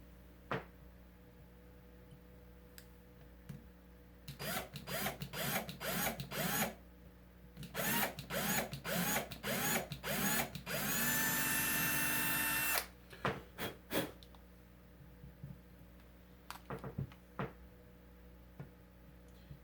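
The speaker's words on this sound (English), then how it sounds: "But I found where I'm gonna drill my holes here" A power drill boring screw holes into the wooden body of a Strat-style guitar, several short whirring bursts followed by one long continuous run, then a few faint clicks, close and clear.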